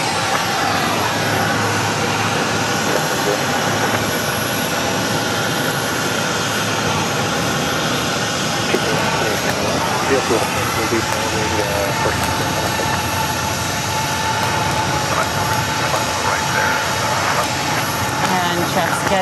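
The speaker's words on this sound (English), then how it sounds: "That's American Airlines Flight 195. It's a Boeing 777, and it's 16 years of age" An American Airlines Boeing 777, sixteen years old, descends to land at Phoenix Sky Harbor, its jet engines a steady, loud broadband roar that holds throughout with a voice talking over it.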